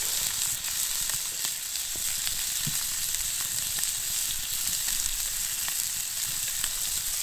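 An omelette sizzles in a pan over wood embers at a snowy forest camp, a steady close frying hiss with small crackles and pops throughout and no voices.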